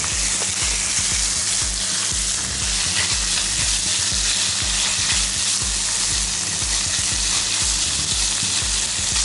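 Zucchini and chicken sizzle loudly and steadily in a frying pan, with the scrape and clatter of stirring repeating throughout.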